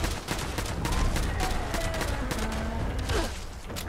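5.56 rifle gunfire in the video game Fallout 76 rattles in rapid continuous bursts over a dense, loud game soundscape, with no talk.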